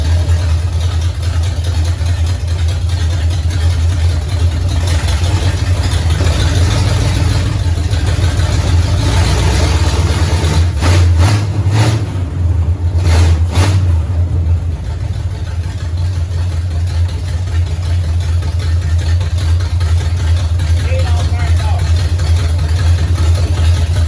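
The engine of a 1969 Pontiac GTO barn find, running for the first time in 17 years, idles loudly and roughs along close by. It swells into a few revs through the middle, then settles back to a steady idle.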